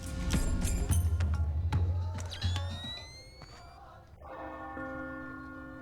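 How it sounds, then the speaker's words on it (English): A church bell tolls in the stealth video game Splinter Cell: Pandora Tomorrow, several loud ringing strikes with long metallic decay at the start, then fading under other game sounds and a sustained tone. "that church bell scared me"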